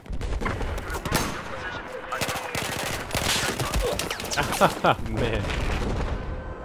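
Rapid gunfire bursts crackle and pop almost nonstop through Battlefield 4 multiplayer combat on PS4, with distant booms mixed in and a voice briefly speaking over the shooting.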